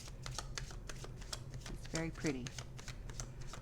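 A Tarot for Beginners deck is shuffled by hand, making a soft, steady fluttering riffle of cards close by, with a brief spoken remark midway.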